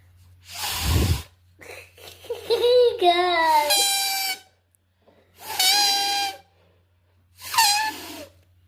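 A paper whistle is blown in several shrill, wavering bursts with sliding pitch, separated by pauses, after a breathy puff of air.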